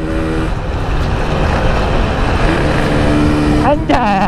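A Yamaha RX King motorcycle on a test ride around Bogor roars continuously at high revs, loud and close amid heavy wind noise, with a brief rev change near the end.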